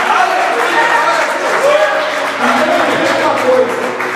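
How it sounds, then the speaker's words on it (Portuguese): Congregation clapping loudly during a church sermon, a dense steady wash of applause filling the whole span with voices tonal shouts riding over it. "aplauda o Senhor mais forte"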